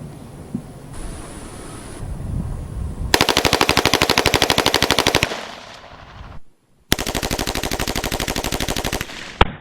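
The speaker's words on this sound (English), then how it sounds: "All right, now we're gonna do the full auto test. MP5, past the semi-auto, on to fully auto." An MP5 submachine gun on full auto, fired outdoors in two long, loud, rapid bursts with a short break between them, a breezy background, and no voices.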